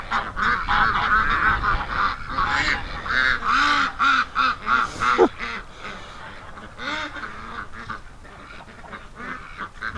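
Loud honking and quacking from several ducks at once, a busy overlapping chorus that eases off halfway through into quieter, scattered calls.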